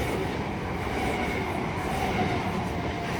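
An ex-c2c Class 387 electric unit, 387305, rolls past on the Brighton Main Line at South Croydon, a steady close rumble of wheels and carriages throughout the short stretch.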